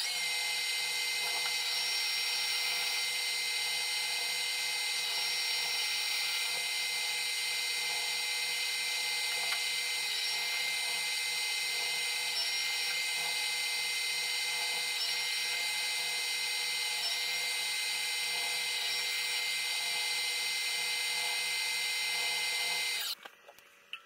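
A metal lathe facing the front of a part for a cup wheel spacer runs with a steady high whine and hum, nearly unchanged for over twenty seconds before cutting off abruptly at the end.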